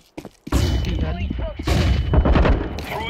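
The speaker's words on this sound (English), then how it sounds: "Throwing flashbang." A flashbang grenade goes off in Counter-Strike 2 on the Dust 2 map: a sudden loud burst followed by a sustained dense roar with a thin ringing tone, while players talk over it.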